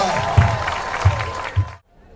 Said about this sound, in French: Je vous demande de vous lever pour l'applaudir, hein, avec tous ses compagnons d'armes.